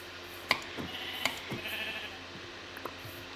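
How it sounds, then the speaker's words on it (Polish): Sheep bleating in the Minecraft video game, a few short sharp bleats spaced irregularly over a low steady background, fairly close and clear with no talking. "I tak owce wszystkie zabiję."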